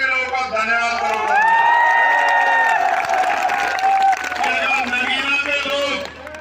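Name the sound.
crowd clapping and cheering at a political rally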